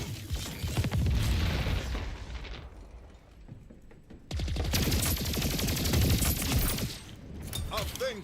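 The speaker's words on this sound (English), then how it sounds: "these guys are definitely using their submachine guns" Submachine gun fire in the arena shooter Splitgate 2, with two dense bursts of rapid shots and a quieter gap between them. The shots sound fairly close and are mixed with game sounds.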